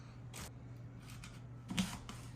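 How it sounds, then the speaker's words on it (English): A few sharp, quiet knife chops through apples against a cutting board, irregularly spaced, with short pauses between cuts. "let's go ahead and start chopping our apples."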